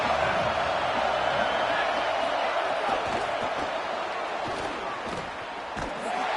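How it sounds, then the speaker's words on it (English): A dense video game stadium crowd roars continuously in a college football game, a broad wash of cheering and chatter with a few thumps beneath it. "This crowd bringing the energy and noise early."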